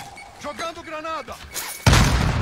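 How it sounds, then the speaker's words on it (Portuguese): A grenade blast in a multiplayer video game goes off near the end as a sudden loud, sustained burst of noise after a stretch of talk from a player. "Jogando granada."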